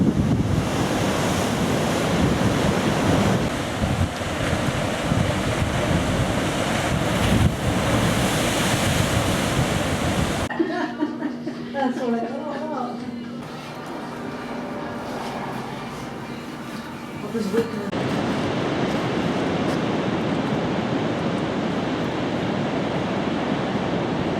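Ocean surf crashes and roars against the pancake rocks at Punakaiki on New Zealand's coast, with wind buffeting the microphone; the wash briefly drops to a quieter passage midway before the loud surge returns.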